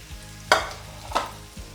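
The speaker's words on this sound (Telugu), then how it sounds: "ఇలా మంచిగా పన్నీర్ని కలర్ చేంజ్ అయ్యేంతవరకు ఫ్రై చేయాలి" Paneer cubes frying in a pan, stirred in three distinct scraping strokes over a quiet sizzle, close and moderately loud with no voices.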